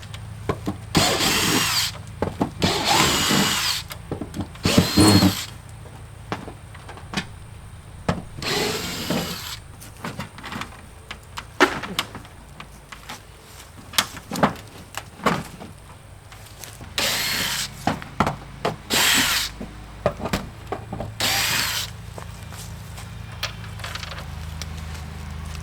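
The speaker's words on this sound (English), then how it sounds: "I was just taking out the screws to the siding" A power drill in repeated short whirring bursts backs rusted screws out of old trailer siding during a trailer restoration, with clicks, rattles and handling noises between the runs.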